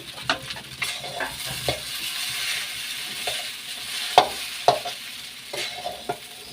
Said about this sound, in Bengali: আমার পেঁয়াজটা ডিমটা ভালো করে ফ্রাই হয়ে গেছে আমার টমেটোটা ফ্রাই হয়ে গেছে এখন আমি চাউমিনটা ঢেলে দিচ্ছি